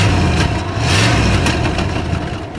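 A 1968 Cadillac DeVille convertible with the 472 V8 revs up loudly from idle, a deep rumbling swell that rises and eases over a couple of seconds, heard close and without talking.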